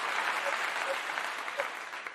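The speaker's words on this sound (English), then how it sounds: "We're going to give you a big round of applause" Audience applause at a podcast-style live event, a steady wash of clapping hands held at an even level for a couple of seconds, with a few faint voices mixed into the crowd.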